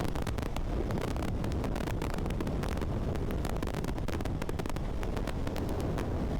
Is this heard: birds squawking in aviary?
no